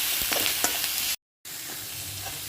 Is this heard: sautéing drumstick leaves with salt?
yes